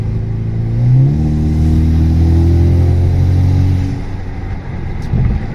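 A turbocharged four-cylinder Camaro engine revs up loudly and holds a high, droning pitch for a few seconds before dropping back to a rough idle, close by.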